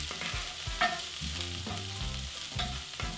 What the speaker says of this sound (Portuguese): Você jogou na frigideira, ela não fez esse barulho, não tem graça.